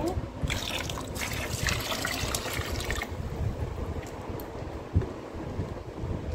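Water poured and splashing over small idols of Laddu Gopal and Radha Rani being bathed in a tub, a steady trickling and gushing that grows fuller in the first half, then softer with faint drips and a single splash near the end.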